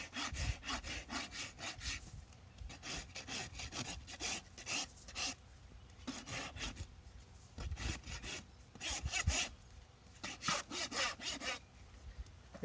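Rasp filing a horse hoof during a trim, a rhythmic series of close, scratchy back-and-forth strokes in quick bursts, fairly quiet with no talk.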